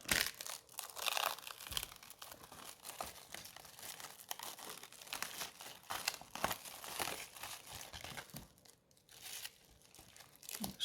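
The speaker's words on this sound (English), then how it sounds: "it has some protective plastic over the top of it. So we're just going to peel that off" Protective plastic film peeled and crinkled off the top of a card kit box, a close, steady crackling and tearing rustle that runs throughout without talk.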